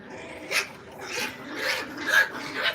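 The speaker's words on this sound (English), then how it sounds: "Puppies, calm down." Puppies bark and yip in a series of about five high, excited bursts at irregular intervals, fairly close and moderately loud against a quiet room.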